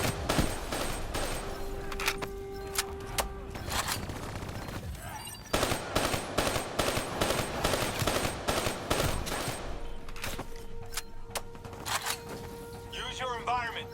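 Rapid bursts of automatic gunfire and scattered single shots in the video game Call of Duty: Black Ops III, loud and close, with brief pauses between volleys and game tones sounding underneath.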